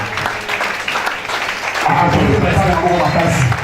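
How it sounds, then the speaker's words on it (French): A church congregation at a French-speaking gospel service applauds loudly, building from a softer patter into a strong, steady wave of clapping that continues to the end. "On applaudit très fort pour la parole du Seigneur"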